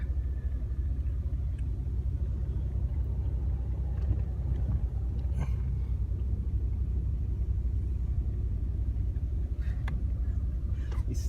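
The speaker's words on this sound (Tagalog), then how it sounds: "Oh, traffic." Road traffic heard from inside a moving vehicle, a steady low engine rumble and road drone with faint passing swishes, continuous and unbroken, no talking.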